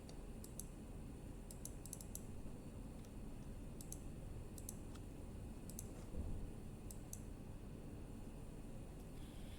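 Computer mouse clicks in scattered short bursts of two or three, faint and close, during office accounting software work, over a steady low hum with no talk.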